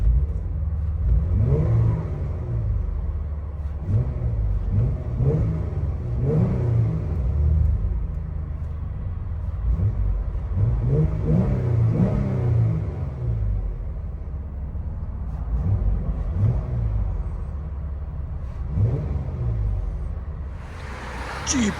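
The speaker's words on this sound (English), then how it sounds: "Jeep Wrangler Unlimited Sahara with a BORLA Pro XS." Interior of a 2015 Jeep Wrangler Unlimited Sahara with a 3.6L V6 and Borla Pro-XS exhaust: a low, steady engine rumble with repeated revving swells throughout, heard from inside the cabin with people talking over it.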